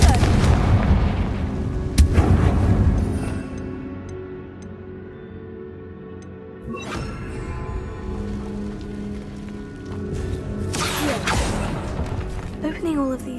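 Confringo spell blasts in the Hogwarts Legacy video game, a loud booming burst near the start followed by further sharp impacts and crackling debris, with a spoken voice heard over parts of it.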